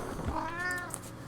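A domestic cat gives a single clear, drawn-out meow up close, rising and falling in pitch, with no one talking over it.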